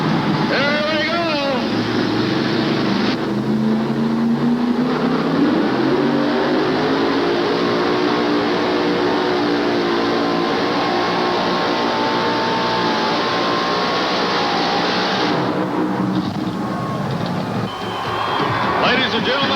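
A super modified two-wheel drive GMC truck making a pulling run at a 1988 tractor and truck pull in Charlotte, North Carolina: a loud, continuous roaring engine with rising and falling pitch, heard amid arena noise.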